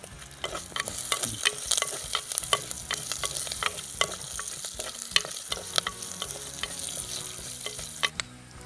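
Curry leaves and green chilies sizzle and crackle in hot oil in a pan, a steady close frying hiss scattered with sharp pops and stirring scrapes, with no voices.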